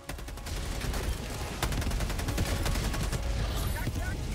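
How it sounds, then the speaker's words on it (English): Orbital laser strike in the Helldivers 2 video game, a sustained crackling barrage of rapid blasts that keeps going for several seconds, loud and dense, with a voice talking over it. "No, the explosion never stops."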